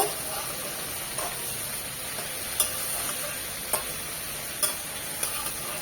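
Fresh green okra fries uncovered in a pan, giving a steady soft sizzle with a few sharp pops and ticks scattered throughout.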